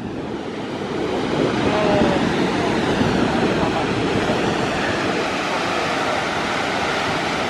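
American Falls at Niagara Falls roars as a broad, dense wash of water noise heard from a tour boat, loud and continuous with strong wind buffeting.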